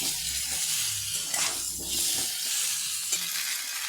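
A spice paste for fish curry sizzles in a pan, a dense continuous hiss with a few louder surges as it is stirred.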